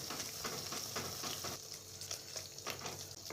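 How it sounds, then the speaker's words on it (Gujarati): Grated bottle gourd kofta mixture roasting in a pan over a medium gas flame, giving a steady close sizzle with soft scraping from stirring throughout. "હવે આપણે આને ફેરવી લઈએ થોડી વાર શેકવાની છે"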